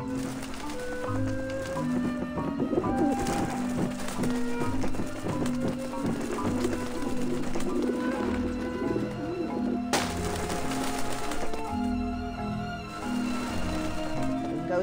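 Pigeons cooing in the adventure game Grim Fandango, soft repeated coos over a looping tonal game soundtrack, with light clip-clop-like taps, no talk.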